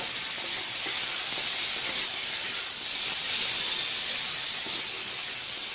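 Fried potatoes are added to a spiced masala for a snail curry and sizzle in the pan, a steady, moderately quiet hiss with faint stirring clinks.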